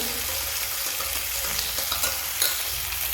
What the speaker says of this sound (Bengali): আলুটাও দিয়ে দিলাম সাথে ভালো করে এটা নেড়ে করে ভাজা ভাজা করে